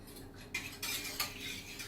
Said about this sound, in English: what we're going to do is we're going to stir it